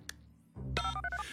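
A telephone number is dialed in a cartoon, a quick run of distinct electronic keypad tones following a soft click, close and clear with no talking.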